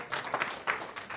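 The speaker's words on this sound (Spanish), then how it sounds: "puede hasta darle un aplauso al Señor" Congregation in a church breaking into applause, a dense crowd of clapping that swells in several bursts over a short moment, with no talking.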